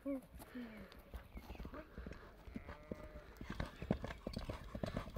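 A horse runs on hard ground, hooves clopping in a quick, uneven rhythm that grows louder toward the end, with a brief whinny at the start and people talking over it.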